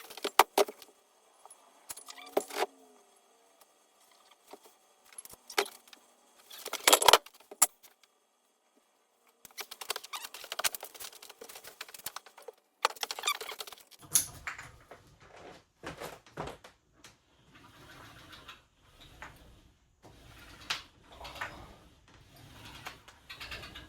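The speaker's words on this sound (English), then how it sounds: "You can hear the actual pulley or the wheel hitting the sides of the pulley." A 3D-printed gym pulley wheel knocking and rattling against the sides of its pulley housing in sharp irregular clacks with quiet gaps between them, then a steadier, softer rumbling rattle as the load keeps moving.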